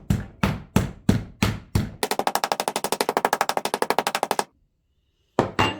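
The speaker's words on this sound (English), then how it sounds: "So I'm just going to pound it out with the flat side." A meat mallet's flat side pounds two pounds of pork loin: five slow, heavy thuds, then a rapid run of about two dozen hits, a brief pause, and a few more blows, all loud and close.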